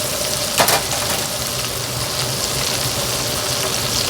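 Chicken fried brisket steak sizzling in a hot pan of oil, a steady loud crackle close by with a brief clatter early as it is flipped over.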